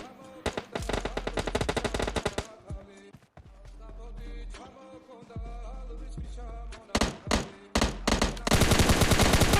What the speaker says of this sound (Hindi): यहाँ पर होती गंदी वाली फायरिंग।